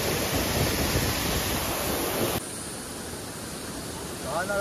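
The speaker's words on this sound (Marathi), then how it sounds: "पाऊस यायला लागलाय" Rain beginning to fall outdoors during a village trip to a cliffside spot, a steady broadband hiss that is loud at first, then drops abruptly to a softer, even wash about halfway through. No one speaks.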